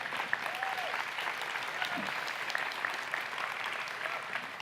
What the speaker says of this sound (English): someone was going to clap back there because that's pretty amazing